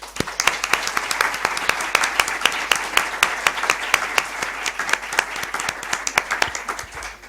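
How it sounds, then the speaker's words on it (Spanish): Listeners at a Madrid history course lecture applaud to welcome the speaker, a lively run of many distinct claps, fairly close and steady throughout. "al que solicito por parte de ustedes un aplauso de ánimo."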